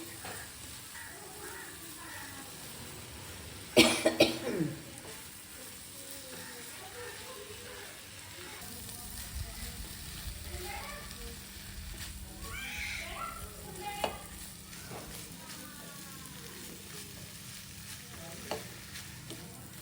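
Soya beans for a roast fry in a pan while being stirred, giving a soft, steady sizzle with a sharp clatter early on and scattered scraping knocks.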